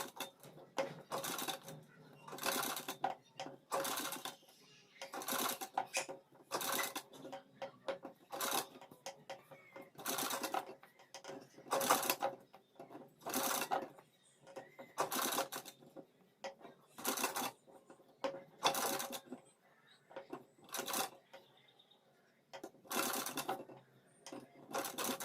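A sewing machine stitches collar strips onto a kurti in a steady series of short, rhythmic runs of close mechanical chatter, each burst followed by a brief pause.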